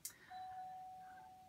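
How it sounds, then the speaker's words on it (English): A home doorbell rings with a quick bright ding followed by a long, steady, fading tone, faint and distant with no voices. "That's our doorbell"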